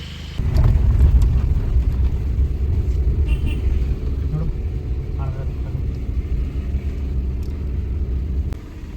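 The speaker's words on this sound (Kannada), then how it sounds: "ಟ್ರಾಫಿಕ್ ಜಾಮ್ ಆಗಿಬಿಟ್ಟಿದೆ" Road traffic crawling in a jam near Cheeyappara Waterfalls between Munnar and Idukki: a heavy, continuous low engine rumble of nearby vehicles with an occasional faint horn, steady and close, with voices under the din.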